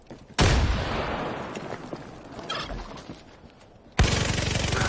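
Turkey gobbling in the video game Far Cry 5 multiplayer arcade, loud and continuous amid bursts of game gunfire and noise, cutting out briefly before resuming sharply near the end.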